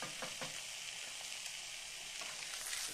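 Tilapia fillets fry in a pan with a steady, dense hiss of sizzling oil and small popping crackles throughout, moderately close and continuous, without any voices.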